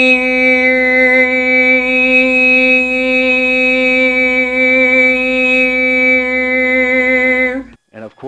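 Mary Had a Little Lamb played back from a digital audio workstation as a steady, bright synthetic tone rich in overtones. It holds loud and even for nearly eight seconds, then cuts off abruptly into a brief burst of noise.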